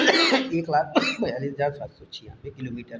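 A man with a slight cough gives a brief cough or throat-clear between stretches of his own close, clear speech.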